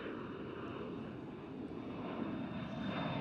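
A KLM Boeing 747 jet at Amsterdam Schiphol gives off a broad, steady engine roar, held at a constant level and swelling slightly toward the end, with no voices.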